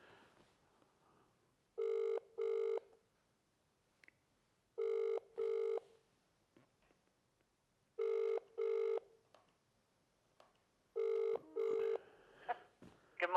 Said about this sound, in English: I think I've dialed the wrong number